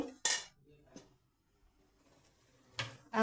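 A spoon scraping and clinking against a wok while fried potato bondas are lifted out, with a sharp metallic clink at the start, another soft one soon after and a louder scrape near the end, no talking.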